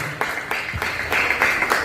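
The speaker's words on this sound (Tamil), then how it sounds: "நம்முடைய நமது சாம்பியன் அவர்களுக்கு கைத்தட்டி அவர்களுக்கு பாராட்டுகளை தெரிவித்துக் கொள்கிறோம்" A church crowd claps for a champion, a steady, close burst of many hands applauding together with a few stronger accents, lasting just under two seconds.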